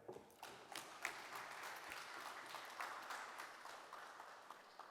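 An audience applauds at a town meeting on crime in Tunapuna, the steady clapping of many hands filling the room at a moderate distance and continuing evenly for several seconds without talk.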